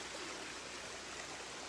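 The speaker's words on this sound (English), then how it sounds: "So that's one of 2 water features." An outdoor water feature beside a house in Steamboat Springs gives off a steady, even rush of trickling water that runs without break, fairly soft and alone.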